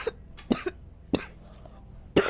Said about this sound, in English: Like me coughing and dying right now.